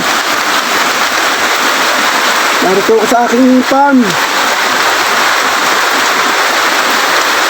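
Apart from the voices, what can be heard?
heavy rain on a farm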